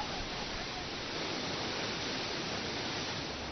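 A waterfall in Shaoguan rushes in a dense, steady hiss of falling water, loud and unbroken throughout with no other sounds standing out.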